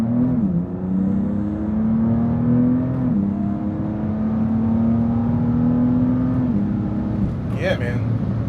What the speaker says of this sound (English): We're sinking that brake pedal all the way down, gassing it, launch control engaged